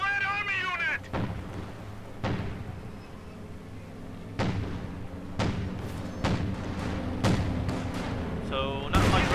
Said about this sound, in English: We're taking fire from Red Army unit!